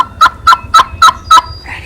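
An eastern wild turkey calls during a Missouri spring hunting season, with five loud, close, evenly spaced sharp notes in quick succession and then a brief softer trailing sound.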